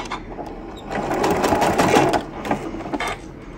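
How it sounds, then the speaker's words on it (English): A sewing machine stitching quilt binding with a triple zigzag stitch runs close and loud, its rapid needle chatter building through the middle and then slowing toward the end. "I can start right at the edge, put my foot down, and stitch."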